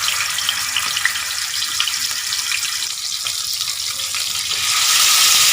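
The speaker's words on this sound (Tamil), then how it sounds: "மேரினேட் பண்ணி வச்சது எண்ணெயில் சேர்த்துடலாம்" Marinated tilapia (jilebi fish) frying in hot oil, a steady loud hiss and crackle that swells near the end, with no talking.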